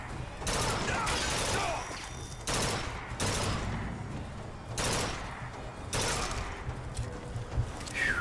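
Gunfire with heavy recoil in the video game Bioshock Infinite: five loud, sharp bursts about a second apart, each dying into a rattling mechanical tail, over a steady low game backdrop.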